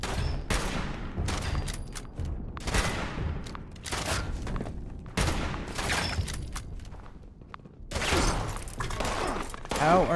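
Gunfire in the video game Pantheon comes in repeated sharp bursts and fusillades with short gaps between volleys, loud and close, with a voice talking at times.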